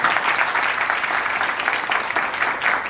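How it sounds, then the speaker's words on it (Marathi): Audience at a college road safety awareness event applauding, a steady dense wash of clapping holding for the whole stretch at even loudness. "पटलं असेल तर माझ्यासाठी जोरदार टाळ्या वाजवा."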